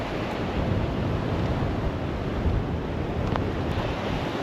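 Sea waves wash onto a somewhat dirty, shell-strewn beach on the East Sea in Vietnam, a steady close roar of surf mixed with wind buffeting the microphone, with no voices.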